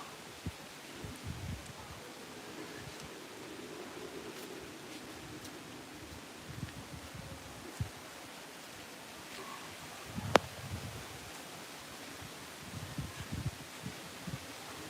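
Strong cyclone wind buffets the microphone in a steady low roar, with rumbling gusts and occasional sharp knocks, and no voices.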